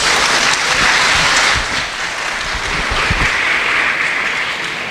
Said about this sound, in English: Everybody please give them a round of applause.